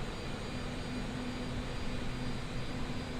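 Oman Air Boeing 787 Dreamliner jet engines on approach, a continuous steady broadband roar with a faint high whine, even and unbroken, heard from inside the aircraft.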